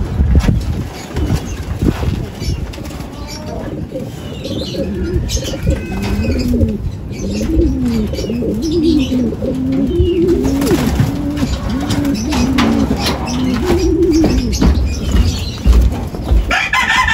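Racing pigeons coo continuously and close up, with repeated low throaty calls overlapping one another through a dense, noisy backdrop of flapping and shuffling birds.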